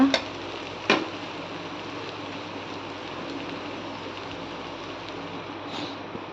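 Cooked rice being mixed in a pan, a steady soft rustling and sizzling texture with a couple of sharp utensil scrapes near the start, close and fairly faint.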